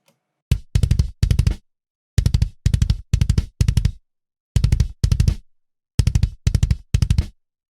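A mixed kick drum hits in short groups of three and four, loud and punchy with deep low thump and sharp attack, each hit cutting off cleanly into silence, alone with no other instruments.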